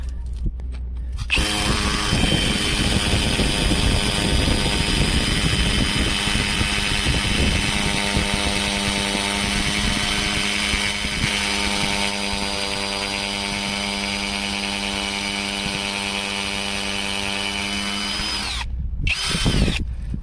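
A cordless 20V impact drill-driver runs loud and continuous for about seventeen seconds, driving a 100 mm lag screw into wood, its motor whine steady with rising harmonic tones, then stops abruptly.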